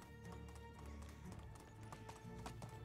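Rhythmic hoofbeats of a horse galloping in the medieval game Medieval Dynasty, steady and close, over a continuous bed of game music and ambient noise.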